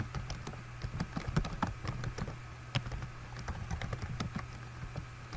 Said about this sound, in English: You type what you hear.